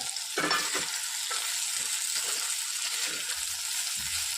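Eggplant sizzles in hot oil in a pan, turning crisp, a bright steady hiss close by with a few scraping stirs and soft clunks and no talking.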